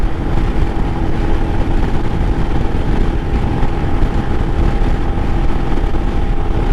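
A 2022 Royal Enfield Himalayan motorcycle cruising on the interstate, a steady droning engine rumble mixed with heavy wind roar throughout, close and loud, with no talk.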